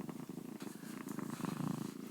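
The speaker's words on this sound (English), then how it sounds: "Her purr is so loud, you guys." A tiny kitten purrs loudly right beside a microphone, a close, rhythmic rumbling with steady pulses that swell slightly louder toward the end, with no talking.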